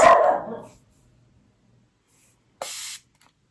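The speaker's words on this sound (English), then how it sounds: "this is the Bioma Balancing Face Mist. I love this so much, and it sprays really nice." A face mist spray bottle gives two short hissing spritzes, one at the start and another a few seconds later, close and crisp with near silence in between.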